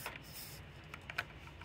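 Soft clicks of typing on a computer keyboard, a few scattered keystrokes over a quiet low background hum.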